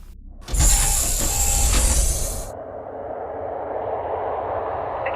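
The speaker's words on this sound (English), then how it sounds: "Releasing docking clamps." Spacecraft docking clamps releasing: a loud mechanical clunk followed by a whirring, ratcheting hiss with tonal beeps, which cuts off and leaves a low, steady rumbling hum.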